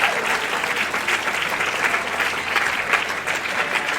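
Applause from a crowd at a Tetris tournament fills the room, steady and dense clapping at close range, lasting the whole moment without a break.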